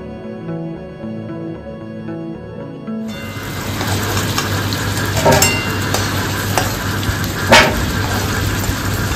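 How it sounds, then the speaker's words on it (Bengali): Potatoes with a few pieces of papaya fry in oil in a wok with a loud, continuous sizzle, stirred now and then with sharp scraping clinks, preceded by a few seconds of quieter tonal background. "দেখো কড়াইতে মা অলরেডি আলু ভাজতে শুরু করে দিয়েছে"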